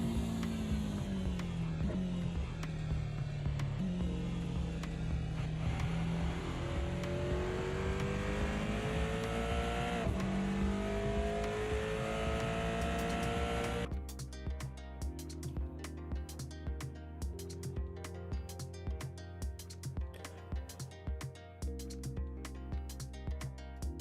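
Aston Martin race car heard from on board in a racing video game, its engine droning loud and steady, rising in pitch through the gears, then shifting to a rougher, pulsing note at lower revs.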